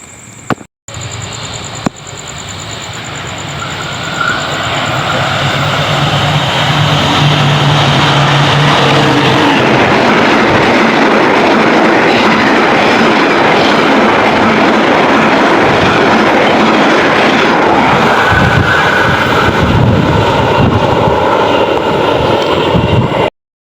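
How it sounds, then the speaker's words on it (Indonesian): KA Sancaka passenger train arriving toward Krian, a loud rising roar of engine and rolling wheels that builds over the first seconds and holds steady for a long stretch, no voices. "Kedatangan KA Sancaka dari sepanjang arah ke Krian teman-teman ya"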